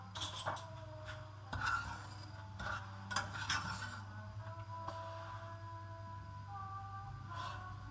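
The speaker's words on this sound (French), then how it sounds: "Je vais remuer un tout petit peu" Sugar and water caramelizing in a pan for a tarte tatin, with a utensil stirring and occasionally clinking against the metal over a faint steady hiss, quiet and close with no talking.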